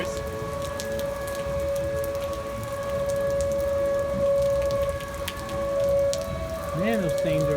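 Tornado sirens at Six Flags St. Louis, Missouri wail steadily over heavy rain drumming on surfaces, a sustained tone with a wavering rise near the end.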